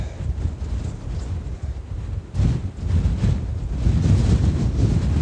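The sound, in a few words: strong wind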